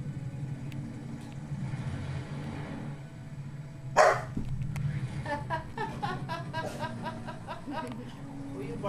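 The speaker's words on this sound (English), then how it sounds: "Who are you barking at?" A Rottweiler puppy gives a short burst of barks and yips indoors, fairly faint against a steady low household hum, with people talking around it.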